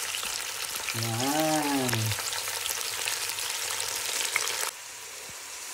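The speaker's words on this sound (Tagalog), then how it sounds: "So yan na guys, ginisa na natin ang pork belly with the onions and luya." Pork belly sautéing with onions and ginger in a pan for sinigang gives a steady, close crackling sizzle, with a short spoken word near the start and the frying continuing throughout.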